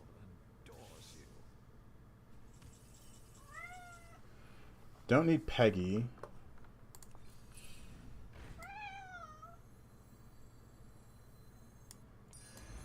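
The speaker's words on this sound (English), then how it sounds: "My cat's letting me know what's up." A pet cat meows in a few drawn-out, rising calls, moderately close, heard against a low steady room hum with occasional talk and game sounds in between.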